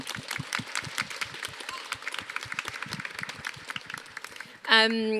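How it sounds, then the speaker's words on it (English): An audience applauds at a youth climate hangout event at the Eden Project, a dense, steady patter of many hands clapping for several seconds before a brief louder tonal sound cuts in near the end. "Let's clap, come on, yeah."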